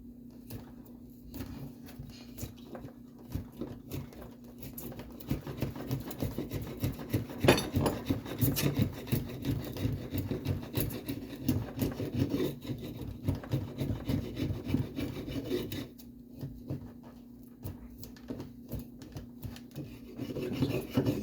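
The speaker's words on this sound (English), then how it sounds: "I'm going to take a chisel and get rid of this excess glue" A chisel scrapes excess glue off wood while a lobster-style yacht boat is being built, with steady rasping strokes that run for about twenty seconds, close and moderately loud.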